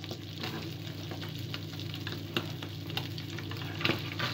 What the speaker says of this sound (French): quand j'arrose comme ça, le gras du beurre va cuire la chair de votre poisson